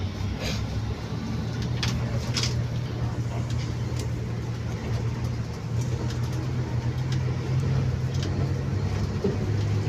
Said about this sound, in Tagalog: Ang daming bus na, ano.